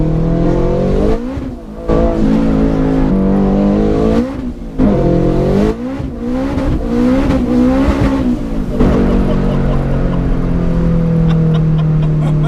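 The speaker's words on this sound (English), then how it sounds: "Limiter bashing Pretty much. in a turbo DC5" A loud 377 bhp turbocharged Honda DC5 engine revs hard repeatedly, bouncing off the rev limiter with sharp rising and falling bursts, then holds a steady high whine.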